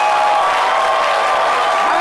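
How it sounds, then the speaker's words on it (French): A French midday TV studio audience applauds steadily, a dense sustained wash of clapping through the whole short moment, with a voice faintly present beneath it. "Il est à son poste, Jean-Michel Honin, que je vous demande d'applaudir très, très, très fort."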